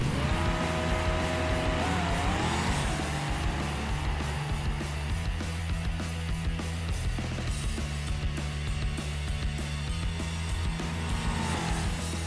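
A Gavril D-Series car racing with a 250 kW nitrous shot in the BeamNG game, its engine roaring continuously and loud throughout, pitch climbing and dropping through gear changes, with no talk over it.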